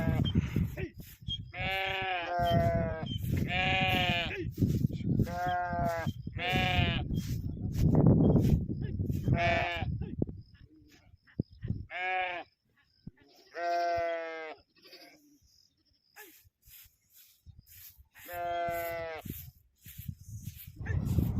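Sheep bleating close by, a series of loud wavering calls with short gaps, one animal answering another, with a dog barking briefly.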